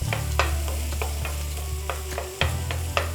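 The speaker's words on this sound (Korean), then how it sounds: "올리브유에 대파와 양파를 튀기듯이 볶아주세요" Green onion and onion stir-fry in olive oil over fairly high heat, giving a steady close sizzle under sharp, irregular clicks and scrapes of a utensil against the pan, with no speech.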